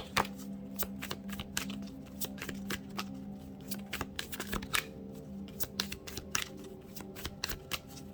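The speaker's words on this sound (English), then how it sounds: "One more shuffle" Rapid, crisp riffling of tarot cards being shuffled, a steady flurry of short flicks and snaps close by, with a faint hum underneath and no talking.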